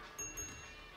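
A bell is rung in The Casting of Frank Stone, inside a creepy store: two quick, bright dings in close succession, faint over a soft background hum, with no speech.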